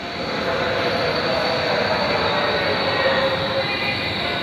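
A KRL commuter train rumbles steadily close by at Manggarai station in Indonesia, a continuous broadband roar with faint metallic wheel squeal above it, no voices.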